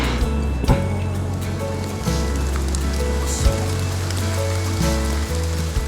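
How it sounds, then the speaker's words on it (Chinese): Rain falls in a steady, even patter under a low sustained musical score, with a few soft taps and no clear talking. "下雨了"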